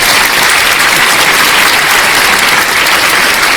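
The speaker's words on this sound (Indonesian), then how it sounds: "Tepuk tangan." An audience claps at a religious lecture. The applause is dense and steady and fills the whole stretch at a strong, even level with no voices over it.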